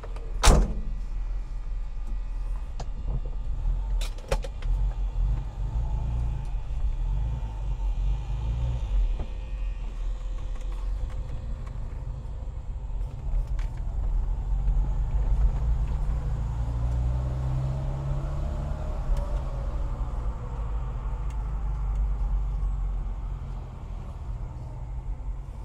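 A 1991 Moskvitch IZH 412 sedan engine idling with a steady low rumble heard up close for a long stretch, opening with a couple of sharp clicks or knocks and no voices.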